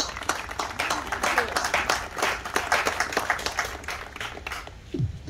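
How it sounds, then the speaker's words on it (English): Sustained crowd clapping and applause fills the space, steady and lively, with some talking mixed in beneath it. "How about if we give Sister Jenkins a round of applause, y'all?"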